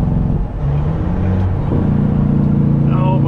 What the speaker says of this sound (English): until I get that fixed, I'm gonna be just working with stage 2 jake brakes